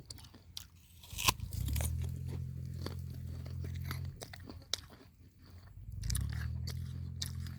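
Crunchy guava is bitten and chewed up close, with sharp crisp bites followed by rhythmic wet crunching, in two separate chewing bouts.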